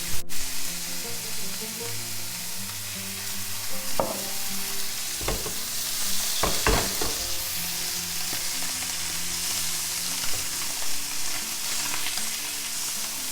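Basa fillet fries in hot oil in a pan, giving a loud, steady sizzle with occasional sharp spits and crackles, close and continuous without talk.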